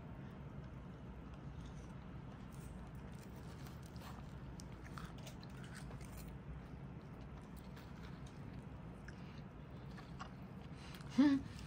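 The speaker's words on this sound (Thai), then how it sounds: "ได้ยินเสียงเคี้ยว" Someone chews a sticky mochi snack with red bean and black sesame near a microphone, soft mouth sounds over a quiet room hum, with a brief louder noise near the end.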